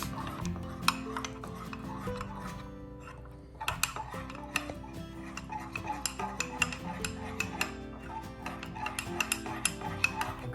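A spoon stirs vegan no-bake cheesecake ingredients in a bowl, giving close, continuous scraping and clinking in quick rhythmic strokes, with a brief pause partway through.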